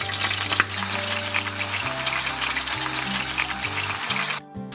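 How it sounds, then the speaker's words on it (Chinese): Chicken skin pan-fries on low heat under a heavy weight, giving a steady, even sizzle with a faint low hum throughout, nearby and uninterrupted until a brief drop at the very end. "再用小火煎4分钟。"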